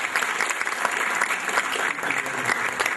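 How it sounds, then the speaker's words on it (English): An audience at a TiE Lahore entrepreneurship session applauds the event sponsors, a full, even burst of many hands clapping that holds steady and loud for the whole moment. "So I'd like to get a round of applause, please, for all the sponsors."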